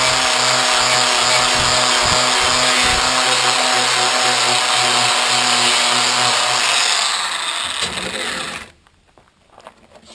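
Power sander with a flap wheel grinding on a Jeep TJ factory lower control arm, a loud steady whine with tonal hum running continuously for about eight seconds before cutting off abruptly, followed by faint handling noise.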